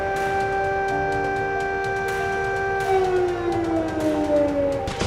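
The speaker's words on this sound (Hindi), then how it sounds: "मंगलवार को कई बार एयर अलर्ट सायरन की गूंज ने लोगों को फिर डरा दिया।" Air raid alert siren wailing across Belgorod, a sustained rising-and-falling tonal howl that slowly drops in pitch, heard from a distance with steady loudness and no voices.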